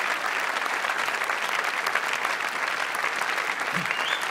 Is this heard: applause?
yes